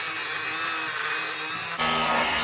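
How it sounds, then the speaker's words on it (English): An angle grinder cuts through U-bolts in a workshop, a loud continuous high whine that rises in pitch and intensity as the disc bites into the metal partway through, with no talking. "I best grind through these."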